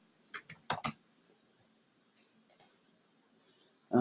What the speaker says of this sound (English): just hit Control F, and then you can type in what you're looking for.